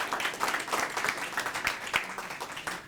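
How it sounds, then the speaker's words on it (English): An audience applauds a police department team at a public service award event, dense clapping from many hands filling the room steadily for a few seconds, with no voices over it. "So give them another round of applause for moving this case forward."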